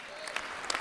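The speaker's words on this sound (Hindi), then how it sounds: "जोरदार तालियों से स्वागत कीजिए शिखा अवधेश का।" Brief crowd applause at a Hindi poetry recitation event, dense clapping from many hands, fairly loud and continuous.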